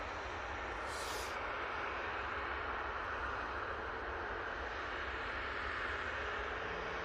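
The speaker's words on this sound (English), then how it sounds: "Going out next, we have this Ryanair going off to Marrakesh." A Ryanair jet departing Manchester Airport for Marrakesh gives off a constant broadband engine roar from a distance, with a brief hiss near the start and no voices.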